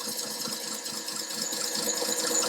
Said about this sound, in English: So basically I'm sharpening this blade.